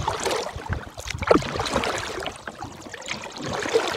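Kayaks paddled along the windy Ausable River at Pinery Park, with steady water splashing and trickling around the boats and occasional paddle strokes mixed with wind noise.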